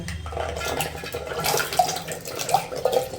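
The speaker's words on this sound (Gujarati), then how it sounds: "બીજા પાણીએ પણ ધોઈ લેશું" Running water splashes steadily while Indian gooseberries are rinsed and handled under it, close and fairly loud, with small drips and clinks.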